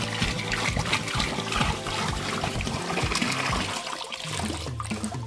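Ten litres of water pour onto twenty kilograms of sugar to make syrup for kala jamun, a continuous close splashing trickle with no talk.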